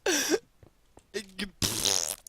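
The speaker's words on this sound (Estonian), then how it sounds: "See on nii see on nagu hästi pikk vanamehe peer." A long fart, likened to an old man's, breaks out in bursts with brief gaps between, loud and close, during a Minecraft parkour session.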